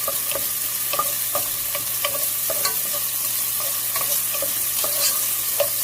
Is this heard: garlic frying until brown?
yes